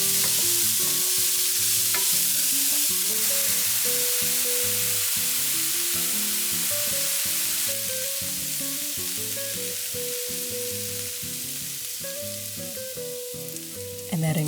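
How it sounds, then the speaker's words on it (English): Red onion and garlic sauté in oil in a pan, a soft continuous sizzle with occasional stirring, partly masked by steady rhythmic background music throughout. "Add your red onion and garlic and saute it up."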